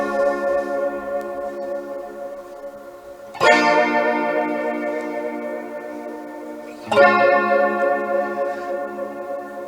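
Two electric guitar chords strummed several seconds apart, each ringing out with a swirling flanger sweep and a long, spacious hall reverb tail.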